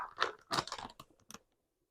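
A packet of green pea snacks from the Philippines torn open up close: a few quick crinkling, crackling bursts of packaging over about a second and a half, then silence.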